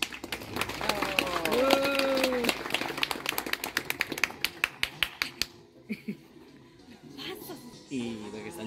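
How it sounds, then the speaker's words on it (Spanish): Applause from a crowd at a primary school graduation ceremony in San José Chepetlán, steady clapping that rises then thins into scattered individual claps, with a voice speaking over the start and talk returning near the end. "brindemos fuertes y calurosos aplausos"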